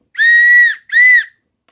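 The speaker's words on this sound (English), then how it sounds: "A little survival whistle. It's good to have." A small survival whistle from a storm-preparedness kit blown in two loud, shrill blasts, the first about half a second long and the second shorter, close by with no talking.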